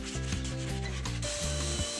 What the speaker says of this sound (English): Finally I sand the edges by hand.